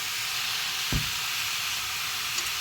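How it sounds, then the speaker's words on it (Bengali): Ridge gourd and potato frying in a pan give a soft, even hiss that holds steady throughout, broken by one brief knock of a utensil; no voices. "ঝিঙে আলুটাকে একটু ভাজা ভাজা করব"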